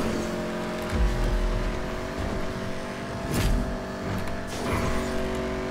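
A car in GTA 5 Online revving and driving, a steady engine drone with harmonic whine that rises and falls through gear changes, with a couple of brief surges, no talk.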